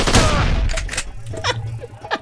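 Assault rifle fire in the hunting game Poached: Hunt The Hunter, with a loud opening burst followed by several shorter scattered shots.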